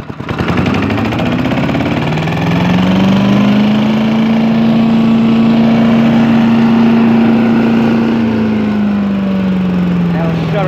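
A Simplicity 5-25 leaf vacuum shredder with a 5 hp 206cc horizontal engine runs steadily with its bag removed, a loud continuous drone close by, rising to full speed early and easing slightly near the end.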